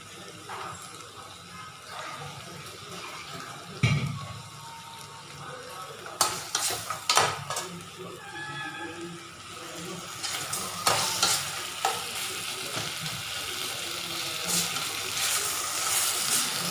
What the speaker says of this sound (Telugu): ఇప్పుడు దీంట్లో వాటర్ వేసుకోవాలండి